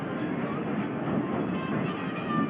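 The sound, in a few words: Disneyland Railroad train arriving at New Orleans Square Station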